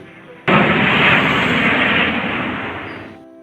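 A single heavy bombing blast erupts suddenly as a loud, broad roar, then rumbles and slowly fades over about three seconds.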